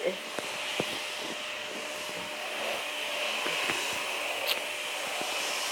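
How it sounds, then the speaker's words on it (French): Household vacuum cleaner running in the background, a steady faint whining hiss that holds throughout beneath scattered soft clicks and knocks. "excusez-moi si vous entendez l'aspirateur, c'est vraiment horrible"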